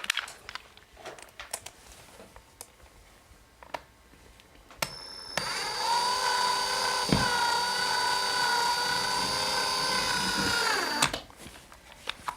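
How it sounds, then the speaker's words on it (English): Power drill or driver sinking a screw into a wall for a bracket, a steady whirring run of about six seconds after quiet handling clicks, then cutting off. "Okay, now I can put my screw in."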